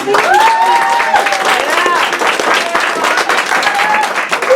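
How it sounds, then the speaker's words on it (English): An audience at a Black cultural celebration event applauds loudly and continuously, a dense close wash of clapping with cheering and whooping voices rising over it. "Can we get another round of applause?"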